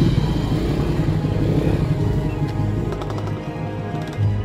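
A motorcycle rides along a muddy rural road in Indonesia, its engine putting steadily nearby with uneven revving and a continuous low rumble.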